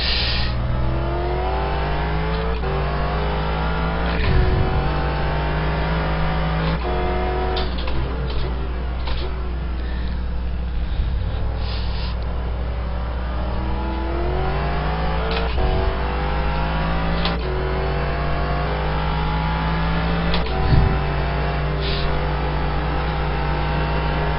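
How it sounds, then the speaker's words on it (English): A race car engine in the iRacing sim, during a Grand Touring championship race, revs high and shifts repeatedly, sweeping up through the gears with sharp changes, loud and continuous with no talk. "Could hear the engine revving real high."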